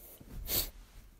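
A single close, sharp sneeze bursts out in the middle of a quiet moment, with a faint breath just before it.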